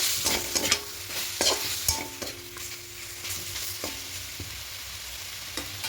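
Chicken being cooked down in a pan without oil, a low sizzle with repeated scraping and knocking strokes of a spatula in an uneven rhythm, close and moderately loud, with no voices.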